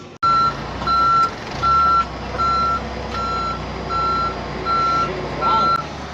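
A big rig truck reverses while unloading, its backup alarm sounding loud and near in a steady series of about seven evenly spaced beeps over a low diesel engine rumble.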